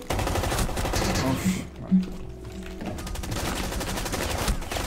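Gunfire in the video game Rainbow Six Siege: rapid bursts of shots rattle at moderate loudness, broken by a brief lull with a few muffled thumps, then steady firing resumes, with a voice speaking over it.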